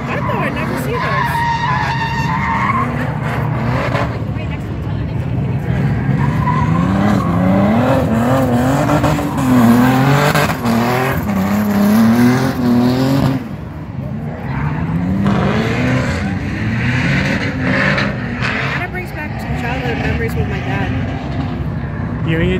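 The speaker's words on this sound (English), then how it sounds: "That's an American muscle car engine in that car." A drifting car fitted with an American muscle car LS V8 engine roars and revs while tires squeal in long wavering sweeps, loud and sustained throughout, with people talking over the noise.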